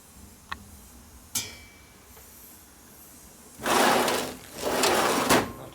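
A workshop drawer of parts for a 1957–70 Harley Ironhead XL rebuild gives a few light clicks, then slides open and shut twice with loud rattling scrapes.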